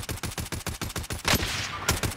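Rapid automatic gunfire in a video game, about a dozen close, evenly spaced shots followed by a louder blast and a few more reports.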